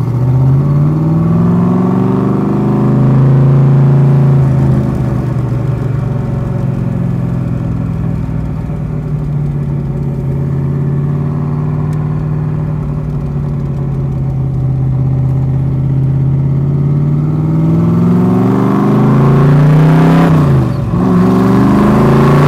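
A 1965 Backdraft RT4 roadster in British Racing Green revs its engine, a loud, close, sustained deep rumble that rises and falls in pitch, swelling near the end with a sharp throttle blip.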